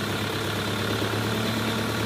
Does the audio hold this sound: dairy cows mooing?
no